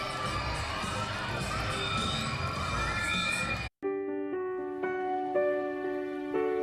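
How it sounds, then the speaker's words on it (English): A crowd of schoolchildren cheers and shouts loudly for their school custodian for a few seconds, then cuts abruptly to sustained ringing musical tones. "had these kids cheering for their custodian"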